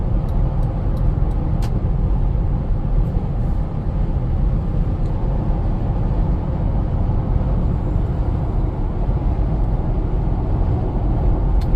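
A 2007 Toyota 4Runner Limited 4WD with a V8, cruising on the road, heard from inside as a constant low engine and road drone with steady tire rumble, plus a few faint clicks near the start.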